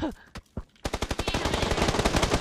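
Rapid automatic gunfire in a video game comes as a few scattered shots, then a fast, steady stream of loud, close bursts that continues to the end.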